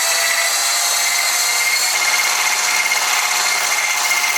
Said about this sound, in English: So all of this is just coconut cream. We're gonna go ahead and whisk this